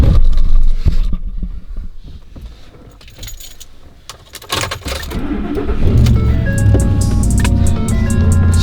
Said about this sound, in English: Starting up the Raptor.